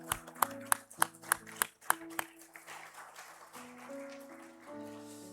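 Church congregation at a Sunday service clapping to encourage children: a series of sharp rhythmic claps in steady beat, then a softer blur of scattered clapping as music tones continue underneath.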